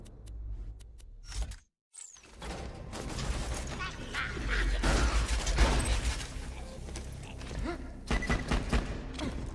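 Pistol gunfire in Borderlands 2, a rapid run of sharp shots mixed with game effects and thuds, loud and close, briefly cut to silence near the start before resuming.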